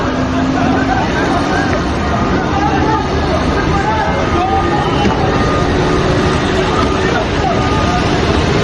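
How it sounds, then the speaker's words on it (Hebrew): A tractor engine runs steadily in a city street in Ofakim, a loud, constant rumble that fills the whole stretch while a crowd of voices talks over it. "הביאו טרקטור."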